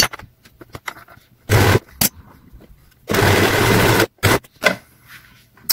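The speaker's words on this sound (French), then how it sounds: "On peut très bien le faire à la machine à coudre." A domestic sewing machine stitches fabric while a garment is being sewn, in short bursts of rapid whirring, one about half a second long and another about a second, broken by quiet pauses with light handling clicks.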